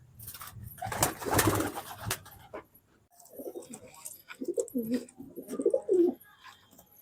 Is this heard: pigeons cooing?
yes